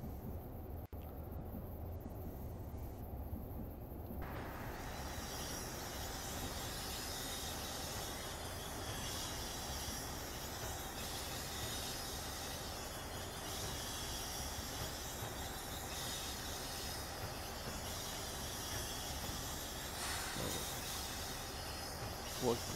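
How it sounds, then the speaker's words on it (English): Steady rumble and rail noise from inside a train in Train Simulator Classic on the Midland line in New Zealand, running continuously after leaving a tunnel, with faint wheel squeal and clatter throughout and no talking. "This is inside the train."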